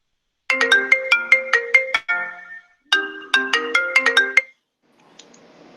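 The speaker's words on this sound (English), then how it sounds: "Whose phone is ringing?" Mobile phone ringtone plays a bright, repeating melodic chime in two loud bursts separated by a short pause, followed by faint background noise.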